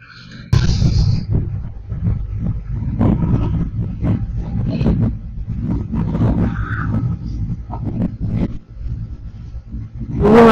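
A vehicle overtaking on a road between Bangalore and Mysore rumbles steadily and fairly loud throughout, with a low engine roar that rises and falls and no speech over it.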